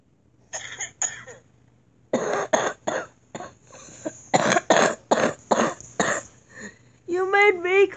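A person coughs in repeated bursts, close and loud, with short gaps between fits and throat clearing mixed in, ending with a brief voiced sound.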